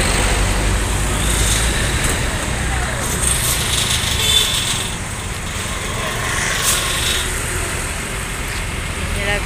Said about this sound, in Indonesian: Lagi berisik banget ya karena bus Epastar masuk gitu.